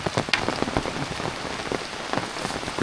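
Steady rain falls outdoors on a surface, an even wash of close patter with a few sharper drops standing out and no voices.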